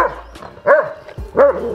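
Two male dogs, one a Doberman, barking during a scuffle, two loud sharp barks about a second apart with whimpering yelps between, close by.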